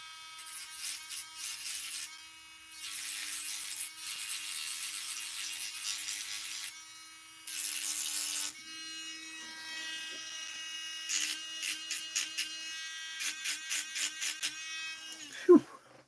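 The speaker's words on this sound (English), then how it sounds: "Why didn't anybody remind me to sand the top of this thing?" A handheld power sander buzzes over the top of a wooden beam in loud close bursts of a few seconds each, stopping and restarting, with shorter rapid pulses near the end and a clunk at the close.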